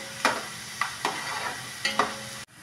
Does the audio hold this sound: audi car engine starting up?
no